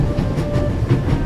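A train rushes along at full speed in a video game, a steady low rumble with faint periodic clatter from the cars, close and continuous with no talking.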